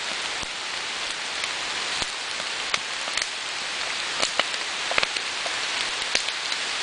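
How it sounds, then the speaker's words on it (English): Heavy rain pours steadily onto surfaces nearby, a dense, constant hiss broken by sharper individual drops and occasional louder splatters, with no voices present. "pouring rain"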